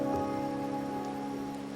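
Rain falling in the video game Wuthering Waves, a steady soft patter lying under a sustained tonal music bed with no pause across the short stretch.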